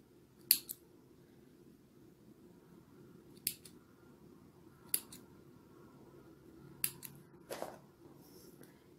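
Scissors snipping the connecting threads of a Turkish needle lace (iğne oyası) flower piece, five crisp separate cuts spaced a second or more apart in a quiet room.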